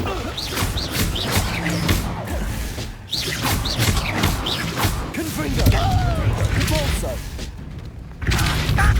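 Confringo blasting spells cast during Hogwarts Legacy combat: a rapid string of punchy blasts, thuds and crashes at close range, with sweeping magical whooshes between impacts and a voice present throughout.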